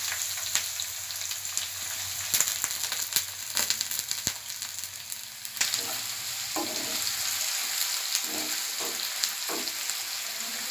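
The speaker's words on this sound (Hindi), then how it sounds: "प्याज को टिके भाजी नवा" Chopped onions frying in oil with spices, a dense hissing sizzle with crackles and repeated spatula scrapes, close and steady throughout, no voices.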